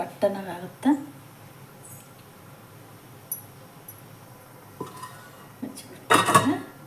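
A steel pot lid set down on a cooking pot of frying food in a home kitchen: a couple of short metallic clanks near the start and a louder clatter near the end, with quiet background and little speech between.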